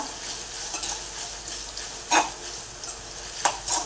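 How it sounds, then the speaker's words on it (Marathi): Schezwan fried rice is stir-fried in a sizzling pan, with a steady frying hiss and a few sharp scraping strokes of the spatula against the metal. "आणि परतून घेऊया, मिक्स करूया."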